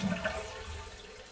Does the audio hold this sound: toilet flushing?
yes